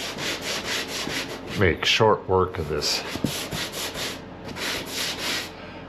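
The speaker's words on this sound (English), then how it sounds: "I'll hit that with a little bit of sandpaper." A grit block rubs across a drywall corner in a tiny house with quick, rhythmic back-and-forth scraping strokes, close and dry, briefly interrupted midway while someone speaks.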